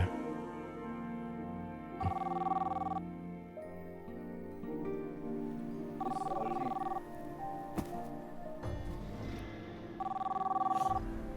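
A telephone rings in three evenly spaced bursts, each about a second long, moderately loud indoors with quiet room noise between them.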